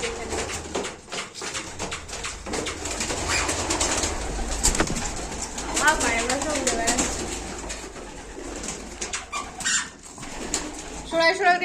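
Domestic pigeons cooing and shuffling in a rooftop pigeon loft, a nearby low murmur of coos running through under steady talk and household noise, with a brief flutter of wings.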